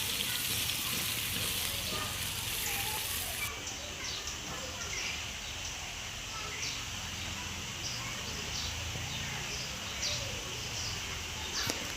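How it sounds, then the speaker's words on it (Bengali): Fish fries in a pan with a steady, close hiss and crackle, with faint birdsong in the background. "মাছ ফ্রাই হয়ে গেলে"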